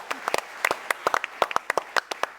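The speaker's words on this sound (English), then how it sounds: "I think we can applaud that." Scattered applause from a conference audience at an international anti-corruption gathering: sparse, distinct claps from a modest number of people, close and crisp, with irregular gaps between hands.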